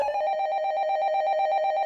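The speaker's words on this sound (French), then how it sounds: "Le téléphone bleu sonne." A blue telephone rings continuously with a steady, rapidly pulsing electronic trill, loud and close, with no voices over it.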